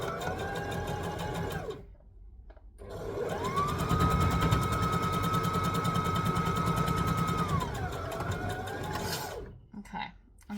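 A sewing machine stitches lap quilt pieces together in steady, close bursts of whirring, with a short pause, a long continuous run and a final burst before stopping, while a person talks over it.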